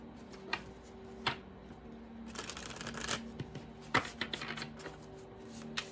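Tarot cards are shuffled and drawn close up, quiet papery riffles and sharp snaps at irregular moments, with a faint steady hum underneath and no talking.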